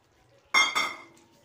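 Papaya pieces drop into a pot of braised mutton with two quick metallic clinks and clatters close by, fading into a quiet room.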